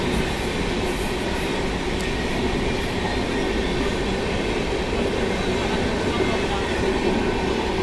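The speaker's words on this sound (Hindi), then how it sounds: "ये है रांची जाने वाली राजधानी एक्सप्रेस जो क्रॉस कर रही है साहिबाबाद रेलवे स्टेशन को" The Ranchi Rajdhani Express rumbles through Sahibabad railway station close by, loud and continuous, with wheels clattering steadily over the rails and a faint squeal at the top.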